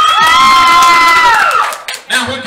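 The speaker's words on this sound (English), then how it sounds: "by round of applause, who thinks Ice Cream Man should get those points?" A live game show audience cheers and whoops loudly, with excited children's voices rising together, then dipping briefly before another burst of shouting near the end.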